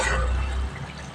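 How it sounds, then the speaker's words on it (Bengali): Fish curry with tomato and onion is stirred in a pot, giving a soft, wet bubbling and sloshing sound that is close and steady for about a second, then quiets. "এবার আমি একটুখানি নেড়ে দিচ্ছি"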